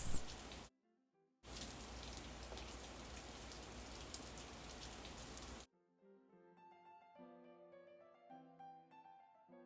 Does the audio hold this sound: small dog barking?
no